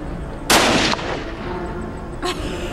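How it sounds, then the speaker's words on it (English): A single loud rifle shot cracks out near the listener during a fallow deer hunt, followed by a rolling echo and a fainter second report about two seconds later. "as soon as you squeeze that trigger, it'll go"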